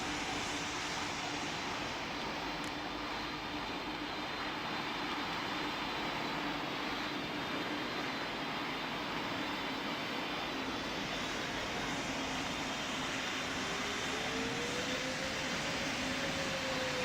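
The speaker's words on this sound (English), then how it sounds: "Delta 7120, clear to take off from runway 15, winds are currently calm." Airliner taking off in the Roblox flight simulator Pilot Training Flight Simulator, a steady, droning engine roar that holds level throughout, with a faint rising whine near the end and no speech.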